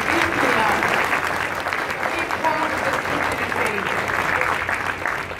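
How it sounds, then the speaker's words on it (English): Applause from a live event audience, a dense, steady wash of many hands clapping that holds at full strength throughout with only a slight dip near the end, with some background voices mixed in. "Please give yourselves a round of applause."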